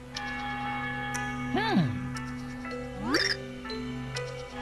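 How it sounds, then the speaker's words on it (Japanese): Sustained bell tones ring steadily in Super Paper Mario, with two rising and falling gliding game sounds layered over them at moderate loudness. "鐘の音。"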